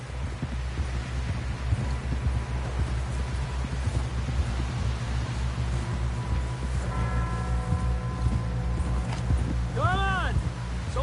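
Hooves clip-clop steadily as a horse rides in Red Dead Redemption 2, close and rhythmic beneath a constant windy rush, with a few higher tonal calls near the end.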